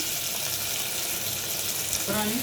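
Brinjal curry with chili powder, coriander and mint sizzles steadily in a pan, a broadband crackle throughout with a faint clink or scrape near the end.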